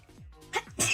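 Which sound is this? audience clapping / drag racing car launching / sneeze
sneeze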